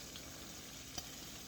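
Chopped onion frying in a pan for keto beef empanadas, a steady soft sizzle heard alone throughout with one small click partway.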